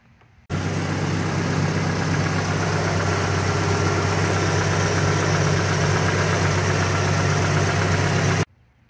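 A Mopar 2.2-litre non-turbo fuel-injected four-cylinder from a front-wheel-drive Horizon idles steadily and smoothly, a close, even hum holding for about eight seconds with no talk.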